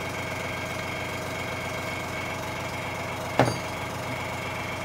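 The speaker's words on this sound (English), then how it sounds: "So let the compressor finish off" An air compressor runs steadily close by with a droning motor hum and rhythmic pulsing, broken by one brief sharp clank partway through.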